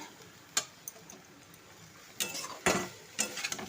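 Potatoes tipped into a spiced masala in a cooking pan, heard as a few sharp clinks and scrapes of utensil against the pan and some soft rustling thuds, close and quiet with no talk.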